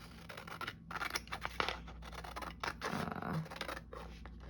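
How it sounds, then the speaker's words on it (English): Scissors snip around a paper page insert, close and fairly quiet, giving a series of crisp cuts and rasping slides of the blades through the paper with short pauses between. "just gonna cut around this so that I can get some"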